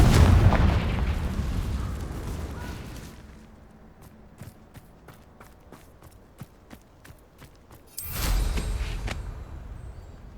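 Spell blasts in the video game Hogwarts Legacy: a loud booming burst opens, then a run of short, sharp popping impacts follows, and a second heavy explosion rumbles in near the end.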